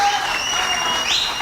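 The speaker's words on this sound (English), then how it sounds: "Give the Ministry of Tourism a round of applause." Steady, dense applause from an audience at a prime minister's loan signing ceremony, honoring the Ministry of Tourism; the clapping stays loud and even throughout.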